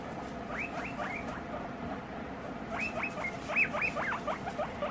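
A small guinea pig gives a run of high, chirpy squeaks in two bursts, close and fairly loud over a steady background rustle.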